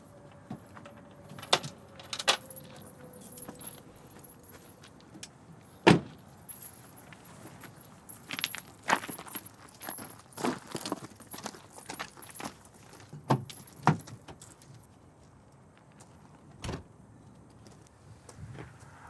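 A car fails to start while keys jangle near the ignition: repeated metallic rattles and sharp clicks come in uneven bursts, with brief motor sounds, close and fairly loud, and no talk.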